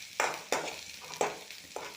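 Fried rice frying in oil in a pan, with four sharp sizzling bursts as the pan is shaken at a steady rhythm over a continuous low crackle, close and moderately loud, no voices.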